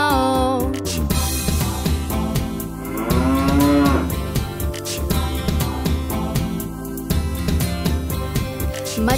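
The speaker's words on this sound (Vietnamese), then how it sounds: "Bò thì kêu mu mu và bò kêu mu mu" A cow lowing in a long, drawn-out moo that swells and fades within a children's farm song, carried over bright music and a steady beat.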